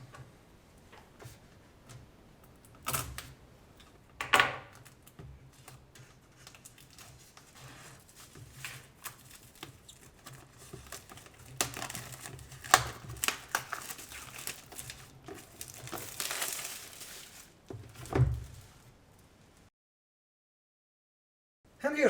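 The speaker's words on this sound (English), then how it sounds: "So, let's unwrap this." Plastic wrap crackles and crinkles as it is peeled off a PS4 game box, with scattered ticks and soft rustling patter. The sound comes close and fairly quiet, louder in bursts near the end, then drops to brief silence.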